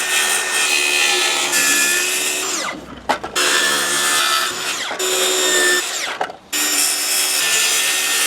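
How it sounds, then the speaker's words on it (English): A power saw cuts wood for playhouse siding in loud, close, sustained whining runs, with two short pauses where the blade stops and restarts. "So let's get our measurements down and get to cutting."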